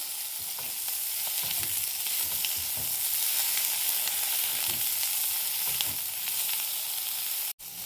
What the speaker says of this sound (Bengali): দেখো বেগুনগুলো ভাজা হয়ে গেছে,